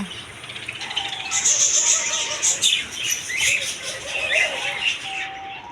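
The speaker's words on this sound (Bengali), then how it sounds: "এদের কাছে রানিং বাজরিকা পাখি বাচ্চা সহকারে" Budgerigars with chicks chirp and chatter continuously in an indoor aviary, a busy layer of bright twittering with occasional wing flutters.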